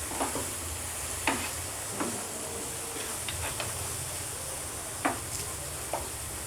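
Food frying steadily in a pan with turmeric being stirred in for mango chitrannam, a continuous soft sizzle broken by several sharp scraping clicks of the spoon against the pan, close and fairly quiet.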